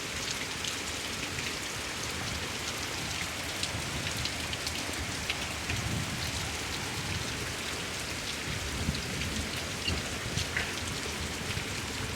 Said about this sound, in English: I can't do anything about the rain